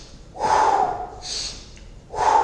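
Breathing during a gentle gym exercise, with two strong close inhales or snort-like breaths framing a softer exhale, heard alone without talk.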